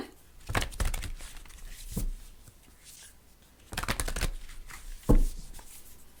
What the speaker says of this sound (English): Give them a ruffle shuffle and see what we have.